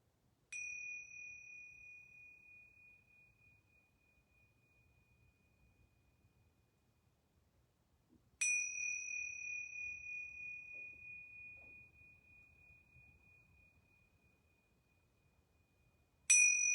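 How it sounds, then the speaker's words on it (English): Yoga bells are struck three times, about eight seconds apart. Each clear, pure ring decays slowly into near silence, and the third strike lands at the very end. "I'm going to ring these yoga bells 3 times."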